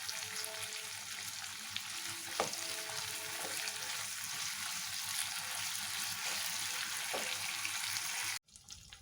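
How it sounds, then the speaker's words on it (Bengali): Onion and capsicum frying lightly in a pan for chilli chicken, giving a steady, close sizzle with a few soft stirring clicks until it cuts off near the end; no voices. "পেঁয়াজটা দেখো হালকা করে ভাজা হয়ে গেছে।"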